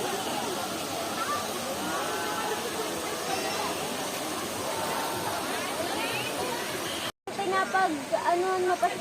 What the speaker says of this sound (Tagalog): Ito pala ang Balinaw Falls.